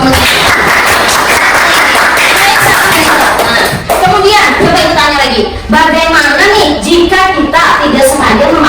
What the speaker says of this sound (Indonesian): Berikan tepuk tangan dulu dong.